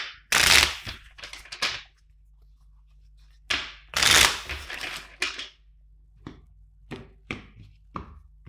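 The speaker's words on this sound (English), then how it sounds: "Two more shuffles." Tarot cards shuffled by hand in quiet surroundings, two loud riffling bursts followed by softer, scattered card taps and slides.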